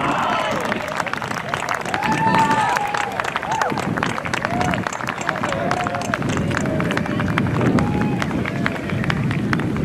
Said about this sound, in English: Let's get one last big round of applause for our 2021 Bishop's Lacrosse seniors.